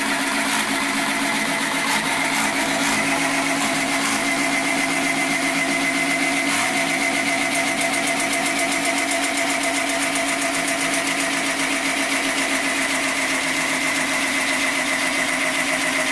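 The small motor of an automatic chicken coop door hums steadily as it opens the door, a continuous, even mechanical drone with no pauses.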